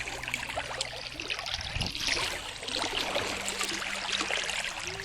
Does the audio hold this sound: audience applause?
no